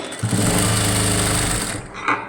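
A sewing machine runs in one fast, steady burst while stitching a puff sleeve, a loud close mechanical whirr that winds down and stops near the end.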